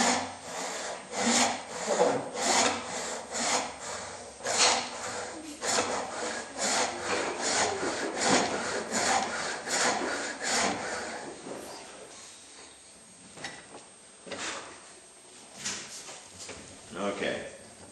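Sharp hand saw starting a cut along an incised line in wood, likely a tenon cut: a steady series of close rasping strokes, loud at first and then fading into sparser, fainter strokes.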